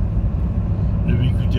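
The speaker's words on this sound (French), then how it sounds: "Le véhicule est passé." A car passes during a driving lesson around Lagny, heard from inside a moving car as a steady low engine and road rumble with a slight swell near the end; muffled talk can be heard.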